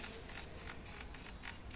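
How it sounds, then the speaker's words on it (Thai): A portable wireless printer running a print job, a faint, fast, regular mechanical whirring and ticking that pulses in quick repeated bursts, heard alone and close. "นี่ครับเครื่องพิมพ์ก็ทำการพิมพ์"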